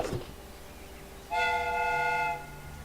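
A steam whistle on a pumped-up fire extinguisher, rigged to imitate a train, gives one steady, harmonic-rich blast lasting about a second, loud and close, after a brief hiss.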